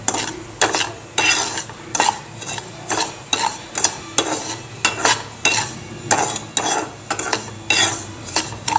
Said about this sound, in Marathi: आणि आता आपण त्याच्यामध्ये आपण भाजलेल्या रव्यामधला 1/2 रवा घालणार आहोत। आता ते छान हलवून घ्यायचं।